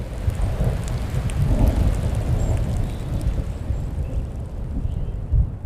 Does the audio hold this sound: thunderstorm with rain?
yes